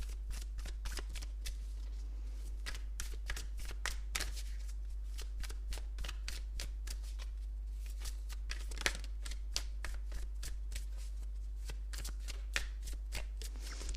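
Tarot cards are shuffled and riffled repeatedly, giving a steady stream of crisp flutters and soft slaps close up, alone over a low hum with no talk.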